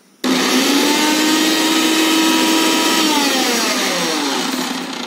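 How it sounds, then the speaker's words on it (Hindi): A Bajaj Juvel Digi 800-watt mixer grinder switches on and runs loudly and steadily for about five seconds, a close, continuous motor whine with a strong tonal hum that wavers slightly in pitch. "ये प्रेस कले मिक्सर ग्राइंडर चलो।"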